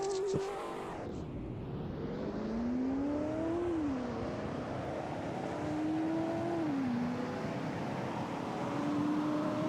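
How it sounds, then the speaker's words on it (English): An older car accelerates in the Roblox game Greenville, its steady engine drone rising in pitch through successive gears with short dips at each shift, loud and continuous from a standstill start. "now it's time to see if it'll accelerate well."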